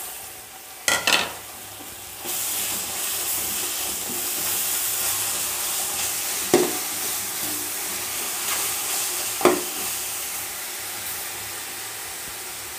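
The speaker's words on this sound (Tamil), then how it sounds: "இப்போது இஞ்சி பூண்டு பேஸ்ட் போட்டுடலாமுங்க. போட்டு நல்லா பச்சை வாசனை போகிற வரைக்கும் நல்லா வதக்கி விட்டுக்கலாங்க." Ginger garlic paste sautéing with onions in a pan over low heat for mushroom biryani: a steady, close sizzling hiss broken by a few sharp spoon scrapes and knocks against the pan.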